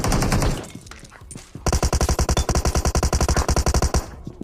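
Rapid automatic gunfire in the mobile battle royale game BGMI, a dense burst of mixed shots followed by a long evenly spaced string of loud, close shots.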